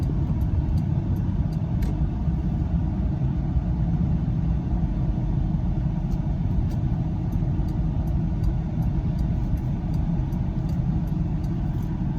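A 2002 Buick Park Avenue with its 3800 V6 cruising on the road, a steady low engine rumble and road noise droning continuously from inside the cabin, with no voices.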